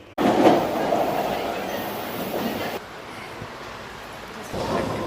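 A Boston Orange Line subway train rumbles loudly through the station, the roar easing into a lower hum as it slows, with faint voices in the background.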